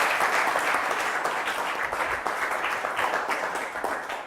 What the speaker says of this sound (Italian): io vi faccio subito accomodare con l'applauso delle Pro Loco